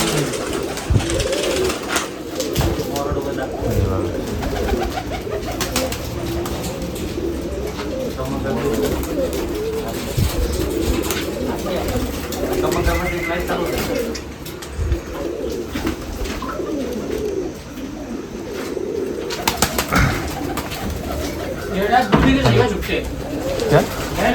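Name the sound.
pigeons cooing at a pigeon festival in Nashik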